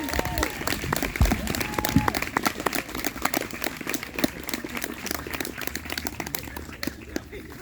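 Audience at a school band awards ceremony breaks into a round of applause, a dense burst of clapping from a crowd that continues steadily before tapering slightly, with some voices mixed in.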